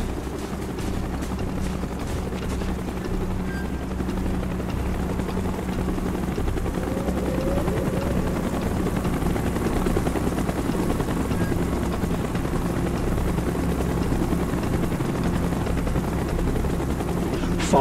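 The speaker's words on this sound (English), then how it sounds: "Chopper's inbound!" A helicopter flies in during a Call of Duty Black Ops battle, a steady loud rotor thrum and whine lasting throughout with little else around it.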